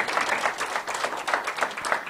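An audience at a church service applauds, a dense, lively burst of clapping that continues steadily for about two seconds, close and fairly loud, with no speech.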